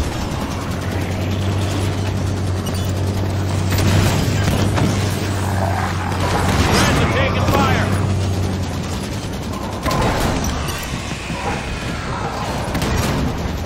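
Gunfire and explosions around a Scorpion tank in Halo 5: Genesis, dense booming blasts and rattling mechanical clatter over a low engine drone, loud and continuous, with voices calling out amid the battle.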